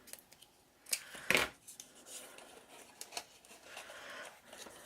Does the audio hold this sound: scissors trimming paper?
yes